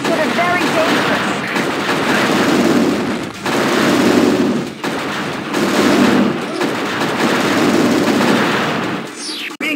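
Sustained automatic gunfire in the Nintendo DS game Transformers Autobots, a dense, loud rattling stream broken into several long bursts with short pauses, ending in a rising whoosh.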